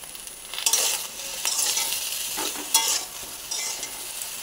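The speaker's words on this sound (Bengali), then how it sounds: "বেগুনটা ভাজবার জন্য আমি অল্প লবণ দিয়ে দেবো আর সামান্য একটু হলুদ গুঁড়ো দিয়ে দেবো।" Brinjal sizzles in a pan with salt and turmeric while being stirred, with close, continuous frying crackle and occasional scraping of a utensil.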